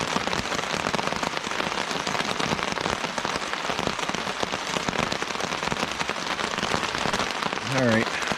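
Rain falling around a campsite on the Quehanna Trail, a steady close patter with sharp drops hitting a surface; a brief voice-like sound appears near the end.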